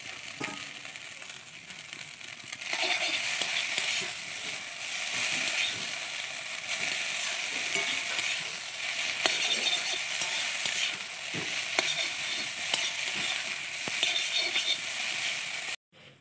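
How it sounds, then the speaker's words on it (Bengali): Boiled Maggi noodles frying with egg in a pan: a steady close sizzle with scraping and stirring clatter from a utensil running throughout, no talking, ending abruptly. "এটা ভাজা ভাজা হয়ে গেছে, এরপর আমি সিদ্ধ করা ম্যাগিটা এর মধ্যে ঢেলে দিব"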